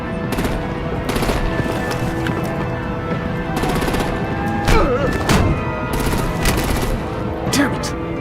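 Gunfire and artillery in the Batman Telltale video game, loud rapid bursts of automatic fire and heavy booms rattling continuously, with voices shouting in between.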